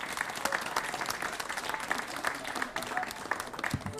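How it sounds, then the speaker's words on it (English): Lively audience applause at a traditional Irish music event in the west of Ireland, a dense, sustained clapping crowd with some faint voices mixed in, steady throughout. "Give them all a big round of applause."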